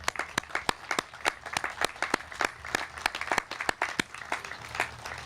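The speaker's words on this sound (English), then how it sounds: "we owe them all a great round of applause for all the work that they've done" A crowd at the opening ceremony of a sports complex in Rocky Mount claps in a loose, sparse patter of distinct individual claps that continues steadily with little else.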